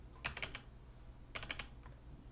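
A test credit card number typed on a computer keyboard, two quiet close bursts of three or four quick keystrokes separated by a short pause.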